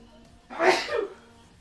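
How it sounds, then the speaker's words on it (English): One person sneezes once, a short breathy burst lasting under a second, close and moderately loud indoors. "I gotta sneeze."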